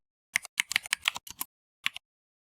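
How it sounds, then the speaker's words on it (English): Fingers type on a computer keyboard while a Python program is being written, a quick run of sharp close key clicks followed by a pause and one last tap. "I'm going to type this out."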